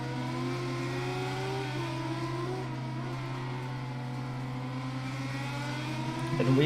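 On-board race car engine at the Nürburgring GP circuit, sustained loud drone with shifting pitches through a chicane, other cars audible, rising at the end.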